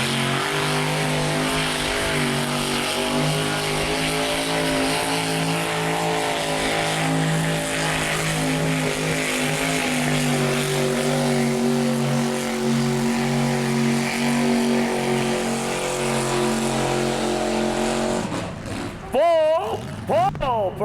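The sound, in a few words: 700 horsepower Chevy truck engine roaring during a truck pull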